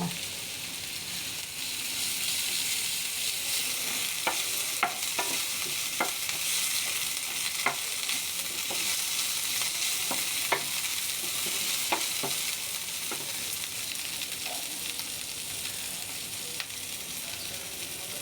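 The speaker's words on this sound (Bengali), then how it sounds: "দুইটা তেজপাতা দিব নিয়ে একসাথে বেজে নেব" Bay leaves and cinnamon frying together in hot oil for aloo dum, giving a steady close sizzle with scattered sharp clicks and scrapes of stirring throughout, no talk.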